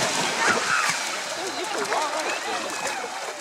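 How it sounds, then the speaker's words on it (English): Ocean waves wash steadily onto a sandy beach at Whangapoua, a broad continuous hiss and churn of surf heard alone at moderate, fairly distant level. "I want to get that sound of the waves and then Emma will do a photo."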